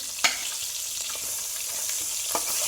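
Something frying in a pan for a prawn malaikari, giving a soft steady sizzle close up with a few sharp spatula scrapes and stirs breaking through.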